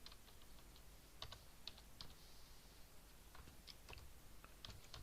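Typing on a computer keyboard, a quiet run of light, irregular key taps and clicks, close but faint, with no voices.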